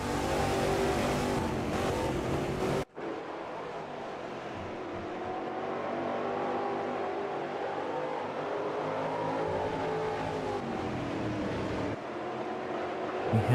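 Stock cars race at Watkins Glen in Automobilista 2, engines droning and revving steadily with pitch rising and falling through gear changes, one brief cut near the start, then continuous close engine roar.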